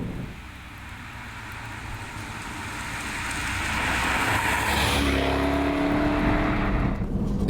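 A 2012 Jaguar XKR-S sports car with 550 horsepower drives along, its engine a steady broadband roar that builds in loudness over several seconds and stays strong, with no talking.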